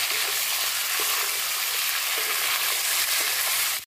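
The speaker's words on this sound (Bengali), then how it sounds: "তো এখানে ভালো করে আগে ফ্রাই করে নেব।" Chicken pieces frying in a pan for a diet chicken biryani, a dense, steady sizzle that holds loud and even throughout with no talking.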